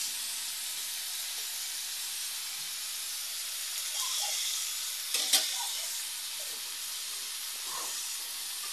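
Chopped tomatoes hit a hot pan and sizzle, giving a loud, steady hissing fry with a brief clatter and a sharper burst partway through.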